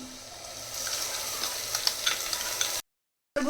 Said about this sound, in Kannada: ಇದರಲ್ಲಿ ಚೆನ್ನಾಗಿ ಆಯಿಲ್ ಬಿಡೋವರೆಗೂ ಫ್ರೈ ಮಾಡ್ಕೋಬೇಕಾಗುತ್ತೆ